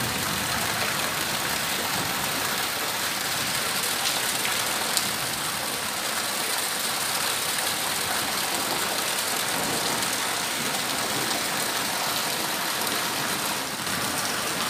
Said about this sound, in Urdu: آسمان کے گنگرج کی آواز اور ساتھ بارش